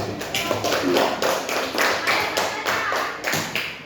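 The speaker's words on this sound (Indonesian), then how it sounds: "kita berikan tepuk tangan dulu" A primary school class claps together in steady, rhythmic group applause, the even bursts of many hands filling a classroom while a teacher's voice is faintly present.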